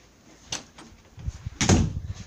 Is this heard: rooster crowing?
no